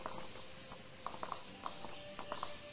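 Horse hooves clip-clop in the video game Animallica, a light run of irregular hoof strikes on a hard surface over a quiet ambient background, with a faint tonal hum beneath.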